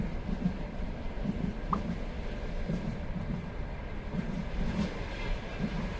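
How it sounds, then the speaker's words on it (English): Train ambience on a video game map: a low continuous rumble of rolling rail cars with faint rhythmic clunks, moderately quiet and steady, no talking. "I love the train sounds."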